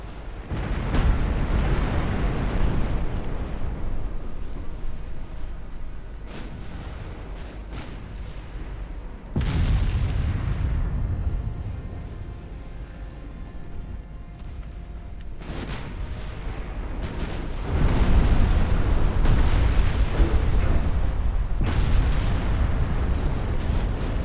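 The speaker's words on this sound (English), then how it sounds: "The 14-inch guns are scoring hits now too." Heavy 14-inch naval guns from a 1931 US fleet in the naval strategy game Ultimate Admiral Dreadnoughts fire in salvos and strike targets, giving repeated deep booming blasts with long rumbling tails, loud and close, with no talk.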